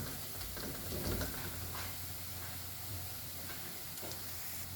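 Coriander roasting in a pan for paneer curry gives a steady, soft sizzle and hiss throughout, close and continuous with faint stirring scrapes and no talking.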